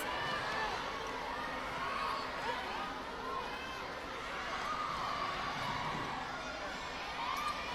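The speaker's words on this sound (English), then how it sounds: "The crowd just reacts." Crowd noise from spectators at a women's netball match between the Philippines and Thailand at the 2019 SEA Games, a steady broad roar of voices and cheering lasting throughout, with no distinct peaks.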